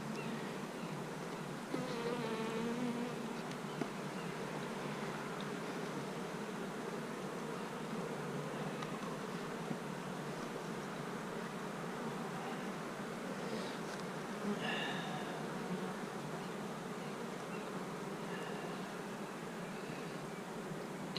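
Honeybees swarm around an open hive, a dense steady buzzing hum that fills the whole stretch, close and continuous, with a few individual bees droning nearer as they pass.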